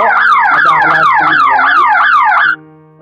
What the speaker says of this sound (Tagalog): Yan po, nag-aalarm po.